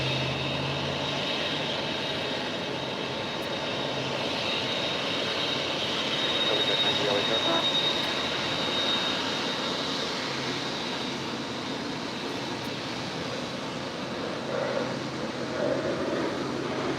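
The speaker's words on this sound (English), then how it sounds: "That is Qatar Amiri Flight 747-8 BBJ." A Qatar Amiri Flight Boeing 747-8 BBJ at LAX produces a steady, moderate jet engine rumble and whine that swells slightly midway, with faint talk in the background.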